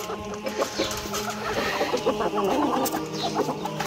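Chickens cluck and chatter in a busy, continuous flurry, close by, with faint voices mixed in.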